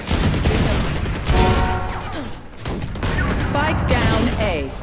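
Gunfire in a tactical shooter video game, rapid shots and bursts mixed with game effects and a spoken voice over the top, fairly loud throughout.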